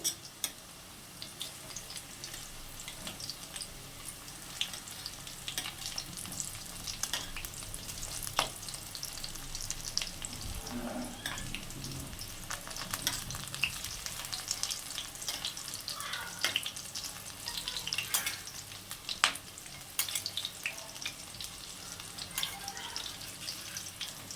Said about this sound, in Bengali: তো চলো ডিমের বড়া কটা ভেজে নিই।